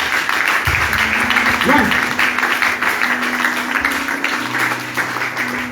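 A church congregation applauds to acclaim Jesus during a French-language worship session, dense steady clapping filling the space throughout, with a brief spoken word and sustained tones underneath.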